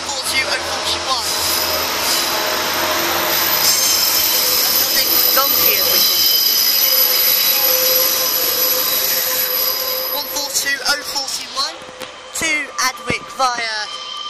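Northern class 142 railbus 142041 pulls away from Lincoln Central station, its diesel engine roaring loudly before easing off, then wheel squeals and clanks near the end, with a voice speaking briefly.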